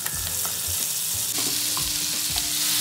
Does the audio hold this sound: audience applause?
no